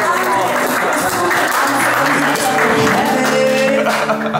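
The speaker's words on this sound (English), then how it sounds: "please give them a round of applause" A loud crowd applauds at a sportsbook gathering, the clapping blended with music and some voices throughout.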